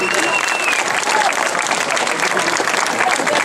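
Loud, continuous audience applause at an outdoor summer festival stage in Ploaghe, Sardinia, a thick crowd of clapping hands sustained throughout, with scattered voices and faint whistles above it.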